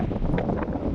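Strong wind at sea buffets a fishing boat, a brief, steady rushing roar with low buffeting.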